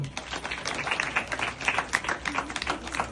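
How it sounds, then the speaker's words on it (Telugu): Applause from a crowd at a church Christmas celebration with Sunday school children, steady dense clapping filling the whole moment, moderately loud and continuous. "క్రిస్మస్ పండుగ కాబట్టి చప్పట్లు"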